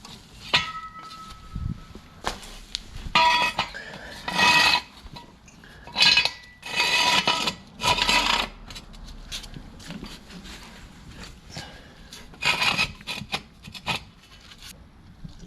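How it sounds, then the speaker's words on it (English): Metal jack stands for an Audi oil change clank and scrape as they are handled, giving a series of irregular bursts of rubbing and rattling over about fifteen seconds with pauses between them. "So make sure we grab those jack stands."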